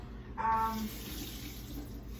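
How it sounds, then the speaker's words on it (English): Water runs from a tap into a sink, a steady close splashing hiss that continues throughout with no one speaking. "Fill your sink like halfway"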